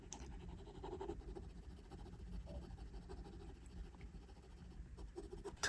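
Pencil shading on paper, darkening the upper eyelid line of a portrait drawing: steady, soft graphite scratching strokes, faint and close, continuing alone without speech.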